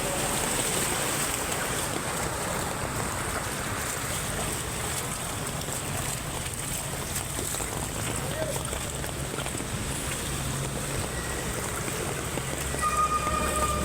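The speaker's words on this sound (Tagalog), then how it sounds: "Bulwak na ang tubig." Floodwater from nonstop rain gushes and churns in a loud, continuous rushing roar that holds steady throughout, with a voice heard faintly over it.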